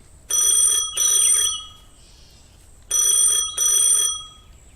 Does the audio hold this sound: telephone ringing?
yes